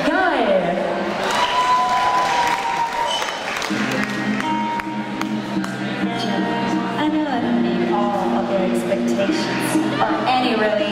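Audience applause at the EMMAWARDS 2014 gala for a singer, steady and full, blending with the opening bars of a song that rises over it.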